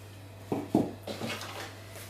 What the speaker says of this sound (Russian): Берем нашу сковородку